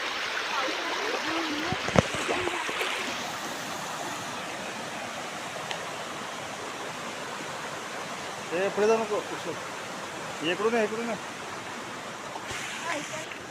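Steady, continuous rush of a river in full flow in the Konkan region, a broad even roar throughout, with a couple of faint voice-like sounds briefly rising over it.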